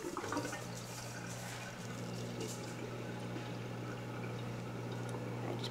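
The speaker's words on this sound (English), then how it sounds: "I just put my dishwasher back on." A home dishwasher runs steadily with a low, even hum and continuous rushing, sloshing water, faint and unbroken throughout.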